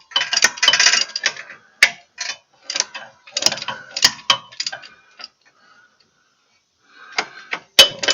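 A long-handled ratchet fitted with an 11/16 socket tightening bolts on a Wright ZK61 mower, with bursts of rapid clicking separated by short pauses, close and fairly loud.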